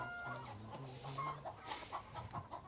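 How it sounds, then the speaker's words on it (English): Chickens on a farm with about 300 birds cluck and squawk in scattered overlapping bursts, fairly faint and at a moderate distance, with no talking. "Right now, we just have about 300 chickens that we have year-round"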